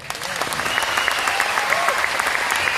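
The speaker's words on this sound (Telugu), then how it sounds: "ఒప్పుకుంటే క్లాప్స్ కొట్టండి." A large crowd of about two thousand people claps together in a hall, a dense, sustained round of applause with a voice faintly audible beneath it.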